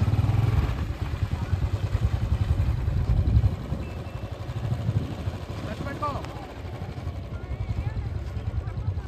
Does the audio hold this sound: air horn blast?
no